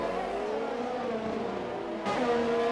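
Race cars in a Formula-style race at Azerbaijan, several on medium and soft tyres, drone past in a steady, continuous engine roar with overlapping tones, one car's pitch jumping higher near the end.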